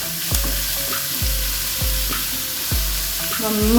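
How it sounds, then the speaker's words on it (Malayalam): Two teaspoons of grated garlic sizzle in hot oil at the start of a chilli egg dish, a steady close frying hiss with faint periodic low bumps from the pan and no voices. "ചൂടായ എണ്ണയിലോട്ട് ഒരു 2 ടീസ്പൂൺ ഗ്രേറ്റ് ചെയ്ത് വെളുത്തുള്ളി അതിട്ട് കൊടുത്ത്"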